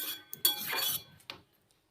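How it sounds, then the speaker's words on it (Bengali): Spoon scraping and clinking against a pan while potatoes and drumstick pieces are stirred with water for a Bengali vegetarian curry, a few brief close metallic scrapes then quiet. "এখন জলটা দিয়ে আবারও সব কিছু ভালো করে জলের সাথে মিশিয়ে নিচ্ছি"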